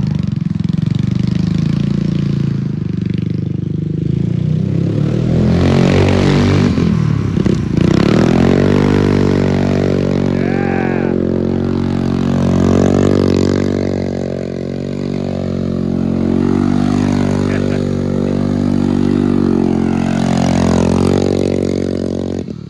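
A Shredder vehicle's engine roars loudly and continuously while doing donuts and burnouts, the pitch rising and falling as throttle is given, with scraping and clatter mixed in.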